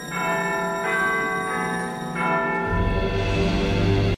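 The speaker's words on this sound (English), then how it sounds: "We also see the clock tower in the background, and then we actually know it's working because we hear the bells." Clock tower bells ringing in Back to the Future, with several resonant, sustained bell strikes that overlap and hang in the air, followed by a low hum swelling underneath.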